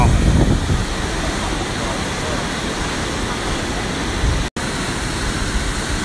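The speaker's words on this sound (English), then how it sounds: "And we found a geothermal waterfall." Powerful geothermal waterfall at Hooka Falls in New Zealand's North Island, a loud, unbroken roar of rushing water filling the whole stretch with a momentary cutout near the end.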